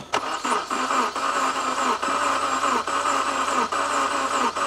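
A BMW E90 engine cranks repeatedly while trying to start, a steady loud whirring grind with short pauses between attempts, close up with no talk.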